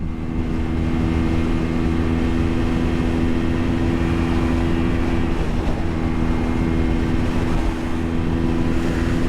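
A Honda CL 250 motorcycle cruising in fourth gear at speed, its engine drone steady and loud, blended with heavy wind rush throughout with no talk.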